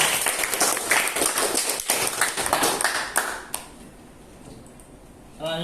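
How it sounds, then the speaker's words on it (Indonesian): A classroom of students claps together in a dense burst of handclaps for about three seconds, then the clapping fades out and a voice begins speaking at the end. "tepuk tangan"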